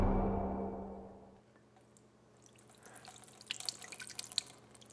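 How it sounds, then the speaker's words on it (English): A liquid is poured into a pan while making carnivore gravy, starting as a fairly loud gurgling stream that stops, then gives way to light, scattered drips and small splashes. "We're gonna pour it in here."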